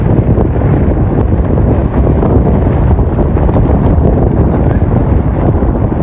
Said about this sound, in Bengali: দেখুন হাওয়ার অবস্থা অনেক হাওয়া